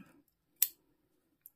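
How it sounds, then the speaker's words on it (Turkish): Scissors cut knitting yarn for a child's beret with one quick, crisp snip at close range, followed by a faint second click in a quiet room. "ipimi burada kesiyorum"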